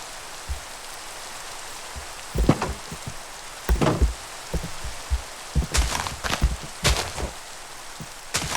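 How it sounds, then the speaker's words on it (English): Rain in the video game Minecraft falls as a steady hiss with scattered sharper drop and knock sounds, no voices. "At least it's raining, not thunderstorming."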